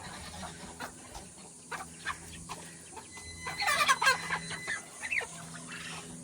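Hen clucking in a garden, a series of short close clucks with a busier burst of calls near the middle over steady outdoor background noise.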